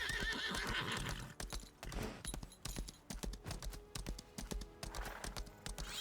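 A horse in a video game whinnies and its hooves clip-clop in quick, uneven bursts, close and clear, with a few faint keyboard taps mixed in.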